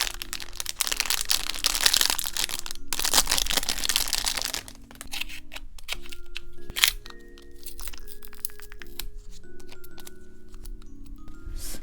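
Crinkly plastic wrapping is torn open from a roll of masking tape, with loud crackling and tearing bursts at first, then quieter rustles and small cracks close to the microphone.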